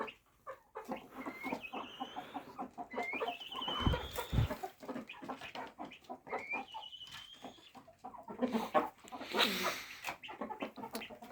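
Several bantam chickens cluck and chatter close by in a home yard, with rising squawks and calls repeating irregularly, no voices heard.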